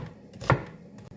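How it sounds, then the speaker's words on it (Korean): A knife cuts once through an onion on a board, a single short, close chop with no talking. "양파는 주머니에 넣을 거거든요. 너무 크지 않게 썰어 줍니다."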